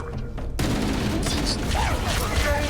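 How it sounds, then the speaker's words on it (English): Gunfire crackles in the Halo campaign aboard the Pillar of Autumn starship, a dense, continuous barrage that starts abruptly after a quieter opening and stays loud, with game voices and other effects mixed in. "Taking fire from the faithless!"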